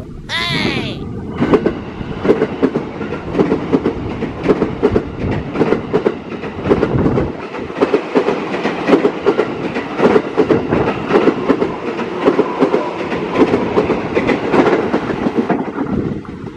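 A commuter train rolls into Cawang station, its continuous rail rumble and rhythmic wheel clatter running steadily at close range, with a brief whistle-like tone at the start and faint talk mixed in.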